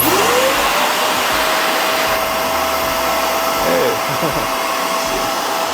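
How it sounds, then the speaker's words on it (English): A Shark Carpet Xpert carpet cleaner runs with a loud, steady motor whine while its trigger sprays cleaner through the hose, the drone continuous from start to finish with a brief spoken word. "You turn it on, press the trigger, and it'll spray the cleaner just to cycle it through here"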